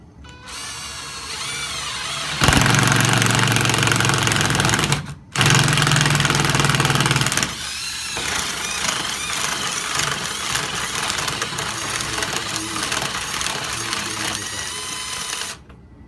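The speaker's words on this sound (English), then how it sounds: "So let's drill our second hole." A cordless power drill whirs loudly and steadily, cutting out briefly and resuming, then settling into a lower, rougher grinding hum as it bores a hole in a wall for mounting a flat-screen TV.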